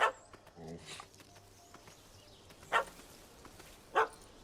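A dog barks at a cat up a tree in The Witcher 3: Wild Hunt, the next-gen PC version. Three short, loud barks come at spaced intervals over a low ambient game background.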